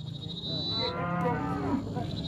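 A cow gives one long, loud, close moo at a cattle fair in Águas Belas, Pernambuco, with livestock and crowd murmur in the background.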